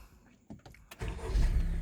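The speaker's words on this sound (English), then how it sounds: "So let me start the vehicle." A 2018 Honda CR-V with an electric parking brake fault starts up. A few faint clicks and a brief cranking whir lead into the engine catching and settling into a louder, steady run, with no voices.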